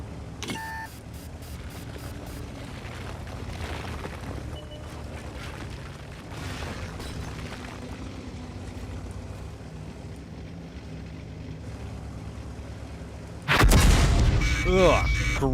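In World of Tanks, an artillery shell scores a direct hit on the player's tank. A sudden loud, heavy blast erupts near the end, after a long stretch of rumbling engine drone and faint distant gunfire.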